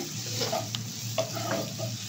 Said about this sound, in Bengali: খুব ধীরে ধীরে অল্প আঁচে পেঁয়াজটা ভাজতে হবে